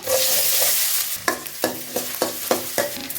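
Finely chopped large onions frying in hot oil with fennel seeds: a continuous sizzle, then a run of five or six sharp rhythmic stirring scrapes against the pan, close and fairly loud, with no voices.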